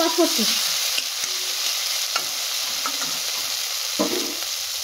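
Prawn malai curry stirred in a frying pan, a soft continuous sizzle under a few scattered scrapes and knocks of the spoon against the pan, close by and fairly quiet.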